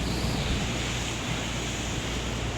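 Ocean surf washing onto the shore of a Cambodian island beach, a steady broad roar with wind noise over the microphone, continuous and fairly close, with no voices.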